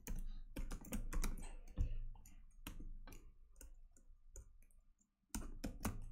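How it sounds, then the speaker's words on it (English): Typing on a computer keyboard, a run of close, crisp key clicks in irregular rhythm with short pauses between bursts and a brief silence near the end, fairly quiet overall. "So I'm going to type storage space."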